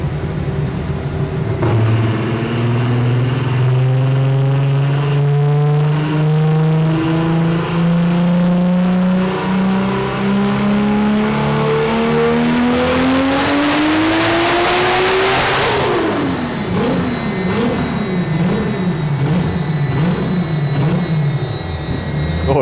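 A 1000 hp car engine revs under load on a dynamometer, its loud drone climbing steadily in pitch for about fifteen seconds before dropping and settling into a wavering, lumpy idle.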